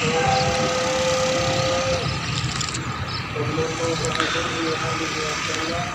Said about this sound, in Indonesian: Demikianlah kereta api Lodaya sudah melintas di petak stasiun Awi Pare yang menuju arah timur